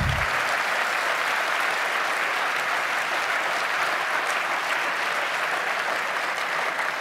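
An audience applauds at a political speech, steady dense clapping from many hands that holds at a loud, even level throughout.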